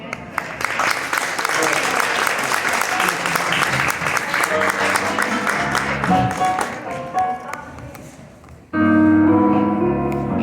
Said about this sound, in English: Join me in a round of applause in welcoming Benjamin.